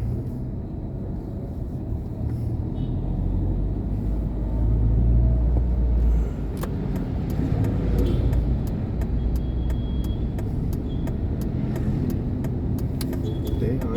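An oncoming vehicle approaching and rumbling past on the road, heard from inside a moving car, with a steady engine drone swelling midway and then easing off.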